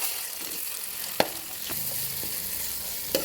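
Ginger garlic paste with a pinch of turmeric fries in a pan, giving a steady close-up sizzle broken by two sharp utensil clicks.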